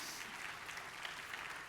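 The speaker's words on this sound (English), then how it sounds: "you can clap for them" A church congregation at Crossroads claps for the people being thanked, a short, soft, steady patter of many hands heard from a distance with no talking over it.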